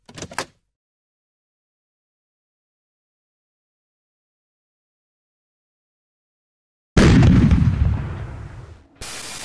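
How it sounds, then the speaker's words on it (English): An animated door opens with a sudden loud burst after a long silence, followed by a fading rush and a brief quieter sound. "I am going to open this door."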